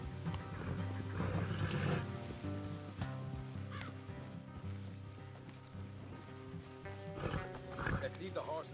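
Horses in the Red Dead Redemption video game, a neigh or whinny and hoof clip-clops over layered game music and ambience, with characters talking throughout.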